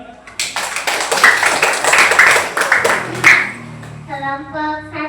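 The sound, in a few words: classroom students clapping hands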